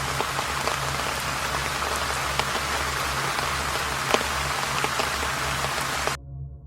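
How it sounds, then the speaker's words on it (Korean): Steady rain falling in Busan, a dense continuous hiss of drops with occasional louder patters and a low hum underneath, ending abruptly. "부산에는 하루 종일 비가 내렸다"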